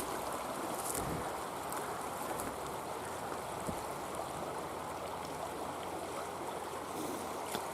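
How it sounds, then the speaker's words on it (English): Steady rushing water of a river flowing nearby, a continuous broadband wash with no talking. "the river's gone back down"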